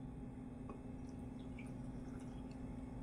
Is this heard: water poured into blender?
yes